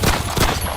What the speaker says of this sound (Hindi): संघर्ष विराम के नियम का उल्लंघन करते हुए 15 राउंड गोलियां दागी